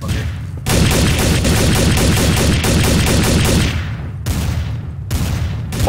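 Rapid gunfire rattles without a break in a Prop Hunt multiplayer match, loud and close, with brief pauses near the end.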